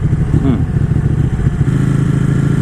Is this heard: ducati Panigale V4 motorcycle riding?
yes